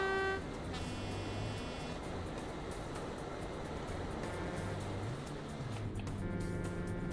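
Car horns honk repeatedly in the Euro Truck driving game, with several sustained tonal blasts of varying pitch over a steady engine and road rumble.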